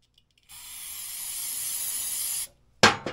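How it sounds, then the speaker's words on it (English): Brake cleaner sprays from an aerosol can in one steady close hiss lasting about two seconds, followed by a couple of sharp short bursts while working on a vintage Polaris snowmobile skid. "just start off with some brake cleaner"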